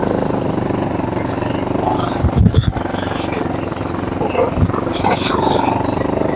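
A motorcycle rumbles steadily over a rocky dirt road during a sudden rain, with a couple of louder jolts as it hits stones, while a rider talks throughout.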